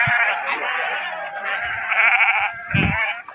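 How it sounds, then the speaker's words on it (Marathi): Sheep bleat loudly and repeatedly, overlapping cries from a flock being washed in a riverbed at Sangvi near Pandharpur, close and continuous with a few low thumps and splashes. "कारभारी लहुदादा लेंगरे ही मेंढी माऊली धुण्याचा कार्यक्रम सांगवी तालुका पंढरपूर नदीपात्रामध्ये चालू आहे भक्तांनो."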